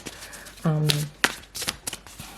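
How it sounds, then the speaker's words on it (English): Red Seeds Oracle cards being shuffled by hand in a few quick riffling bursts, with a short voiced sound and soft handling noises between them, fairly close and moderately quiet. "So let's shuffle the cards"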